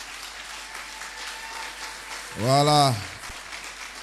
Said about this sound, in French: On va acclamer Dieu pour lui.